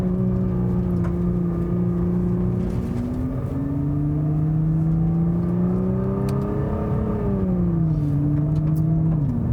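A Nissan GT-R with a dual-clutch gearbox, driven in manual mode, gives a loud, steady engine drone that climbs gradually in pitch, drops sharply at a gear change, then settles again.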